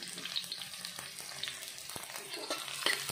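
Shallots frying in a pan with a steady low sizzle, interrupted by scraping stirs and clinks of a utensil, for a Dayak Borneo dish.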